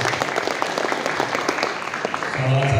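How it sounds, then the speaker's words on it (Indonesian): Audience applause at a youth organisation regional meeting in West Java, a short burst of scattered clapping in a hall, moderately loud, with a voice and a low tone entering near the end. "Tepuk tangan buat kita semua"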